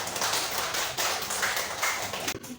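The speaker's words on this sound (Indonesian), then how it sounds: "Beri tepuk tangan buat kita semua." Scattered hand clapping from a classroom group of students, a dense patter of claps filling the whole stretch at a steady, moderately close level before thinning out near the end.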